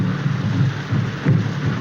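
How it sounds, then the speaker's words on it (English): Heavy steady rain with deep thunder rumbling beneath it, swelling in a couple of low rolls, in a 1932 film scene set during a downpour. "This rain and those drums."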